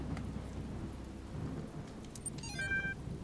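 Steady rain with low rumbling thunder in The Talos Principle video game, a continuous wash of downpour close by with no voices, a few thin electronic tones near the end.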